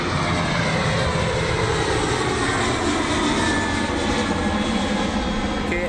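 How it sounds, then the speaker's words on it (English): A Garuda Indonesia Boeing 737-800NG takes off from runway 17 at BTJ Airport in Aceh. Heard from inside the cabin, its jet engines roar loud and steady at full takeoff thrust as it lifts off, with no pause throughout. "V1 rotate right now and lift off bound to Jakarta"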